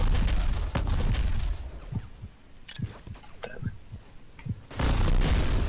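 Grenades go off in the Xbox shooter Black: a dense burst of noise, then several muffled booms and pops scattered at uneven intervals, followed by another loud roaring burst near the end.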